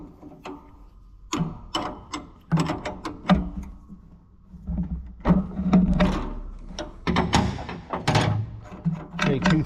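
Metallic clicks, ratcheting and clanks come from a spring tensioner being loosened with hand tools on a Gleaner R72 combine. The taps and scrapes are close and irregular, with short bursts of activity, and a voice is heard briefly between them.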